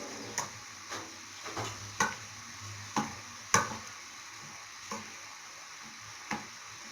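A spoon stirs parsley, coriander and other ingredients in a frying pan, giving a soft sizzle under a series of about ten distinct scraping knocks against the pan at a loose, unhurried rhythm.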